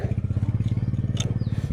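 A tall motorcycle with its engine running in a steady, rapid pulsing idle, close and loud, with a brief clatter of handling partway through.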